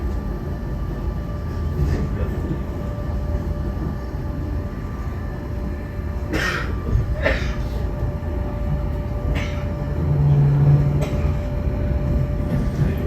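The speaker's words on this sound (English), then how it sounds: "You will also start to feel the train engaging with the rack system as we exit the platform" A rack railway train to Montserrat rumbles steadily along with low mechanical droning and occasional clanks and squeals, continuous throughout at moderate loudness.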